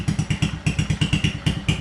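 A rebuilt 20-year-old pitbike engine with a modified exhaust runs close by, a loud, fast, choppy put-put pulsing in an even rhythm with no one talking.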